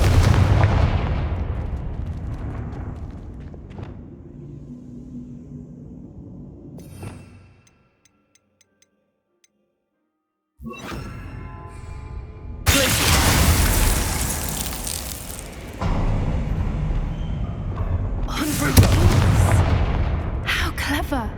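Confringo fire-spell blasts in Hogwarts Legacy, loud booming explosions with crackling bursts that roll off into rumbling decay, a short silent gap midway, then more dense blasts packed close together.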